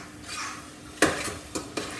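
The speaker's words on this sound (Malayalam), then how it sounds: "ഇങ്ങനെ ഇളക്കി കൊടുക്കണം, ഇങ്ങനെ അടിക്കി പിടിക്കും" Spicy beef with coconut pieces and curry leaves stirred in a pan, with a few sharp scrapes and taps of a spoon against the metal over a faint background sizzle.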